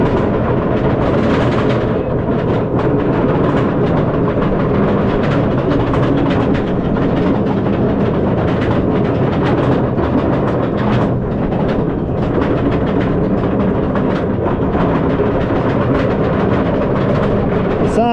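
A loud, continuous rumbling roar of a large roller coaster train, three rows of ten seats carrying 30 riders, running along its track at Busch Gardens Williamsburg, with rattling and clatter throughout.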